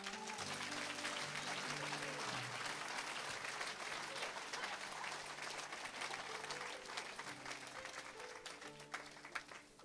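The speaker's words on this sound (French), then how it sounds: "On acclame Jésus." A church congregation claps and cheers for Jesus in dense, sustained applause that holds steady throughout, with music-like tones underneath and no clear speech.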